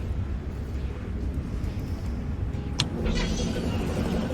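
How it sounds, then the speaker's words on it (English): A speeder's engine idles with a low steady rumble on a lift in a video game, and a sharp burst of exhaust hisses out near the end. "He's taking up the whole darn lift with her speeder. Turn your exhaust a different direction, lady."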